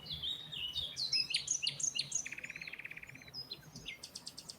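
A nightingale sings alone with bright, quickly varied chirps and whistles, then a fast rattling trill and more sharp high notes, close and clear against a quiet background.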